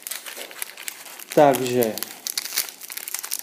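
Foil wrapper of a 2015-16 Premier trading card pack crinkles and tears open up close, with broadband crackling throughout and a short stretch where someone speaks over it.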